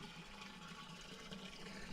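A garden hose at about 3 bar pressure, fed from a tap, sprays a steady water jet, a continuous broadband hiss and rush with no talk over it.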